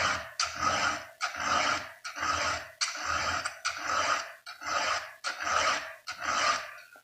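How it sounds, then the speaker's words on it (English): A round file rasping a chainsaw chain to sharpen it, about ten even, rhythmic strokes in a row, close and fairly loud, each grating pass separated by a brief pause. "they needed some saws sharpened up"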